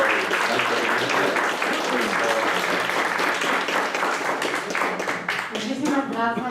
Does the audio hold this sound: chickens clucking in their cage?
no